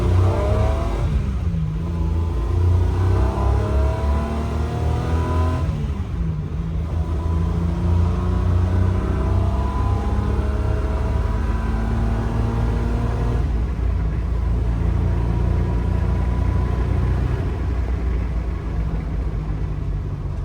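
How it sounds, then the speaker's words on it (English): The Patton Machine car engine revving hard in repeated rising pulls, a loud, deep rumbling roar that swells and drops back several times, close and with no talk over it. "Okay, we revved it a little bit more this time because last time we didn't rev it enough"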